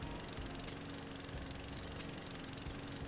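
A John Deere mower cutting grass along a ditch in Farming Simulator 2017 drones with a steady, close engine hum and faint rhythmic knocking throughout, with nobody talking.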